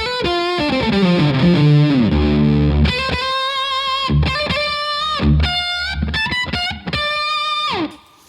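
A thick, buzzy octave fuzz electric guitar plays alone on the neck pickup at half gain, starting with a sliding phrase and then choppy, stabbing chords with short gaps, warm and loud.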